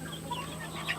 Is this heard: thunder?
no